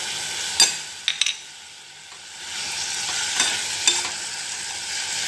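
Pumpkin sabzi is stirred in a pan with red chilli, turmeric, salt and jaggery, with a few sharp spoon scrapes and knocks over a steady soft sizzle.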